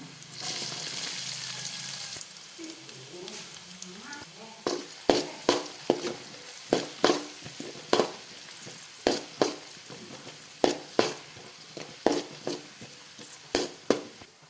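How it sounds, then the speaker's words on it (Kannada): Sliced onion sizzles in hot oil in a pan while corn fried rice is being cooked. A steady frying hiss sits under a run of regular, close tapping and scraping strokes from stirring. "ಈಗ 1 ಈರುಳ್ಳಿಯನ್ನು ಹಾಕಿಕೊಳ್ತಾ ಇದ್ದೇನೆ."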